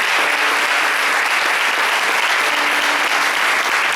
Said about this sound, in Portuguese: Bate palma para esse Deus, bem forte as palmas para Ele.